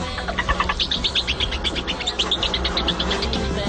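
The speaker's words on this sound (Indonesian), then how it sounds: "mereka berhasil menciptakan tikus yang dapat berkicau seperti seekor burung" A genetically engineered mouse chirps like a bird, giving a fast series of high, thin tweets that repeat steadily over a soft background hiss.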